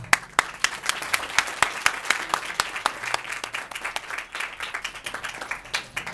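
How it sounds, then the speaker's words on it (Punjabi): Church audience at a sermon gathering breaks into steady, lively clapping to welcome a visiting pastor; dense applause from many hands with sharp individual claps throughout, no speech over it. "ਜਦੋਂ ਆਉਣ ਤਾਂ ਅਸੀਂ ਉਹਨਾਂ ਦਾ ਤਾੜੀਆਂ ਦੇ ਨਾਲ ਸਵਾਗਤ ਕਰਾਂਗੇ"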